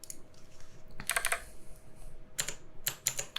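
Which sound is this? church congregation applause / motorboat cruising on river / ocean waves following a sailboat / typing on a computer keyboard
typing on a computer keyboard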